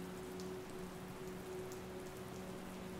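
Steady rain falls in a continuous soft hiss over open countryside, faint and even throughout, with a low hum underneath and no voices.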